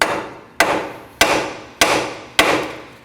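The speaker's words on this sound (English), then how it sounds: "Now go ahead and tap on this area to free the outer tie rod." A hammer strikes the steering knuckle to free the outer tie rod on a 2016-2020 Kia Sorento, five sharp metallic blows at a steady, even pace, each ringing briefly before the next, close and loud with no talking.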